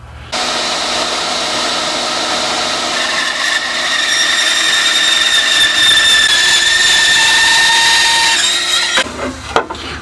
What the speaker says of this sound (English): Probably could do with a few less teeth as I'm cutting lengthways down the timber